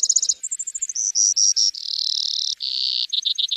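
A Brewer's sparrow at Lake Tahoe sings a long, varied song of buzzy trills and rapid chip series, shifting in speed and pitch, close and clear with no other sound.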